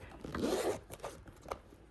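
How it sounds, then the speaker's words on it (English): A zipper on the pocket of a vintage Dooney East West shoulder bag is pulled in one long close rasp, followed by a few shorter tugs and light handling noises. "you've got a zippered pocket with some card slots and a zipper"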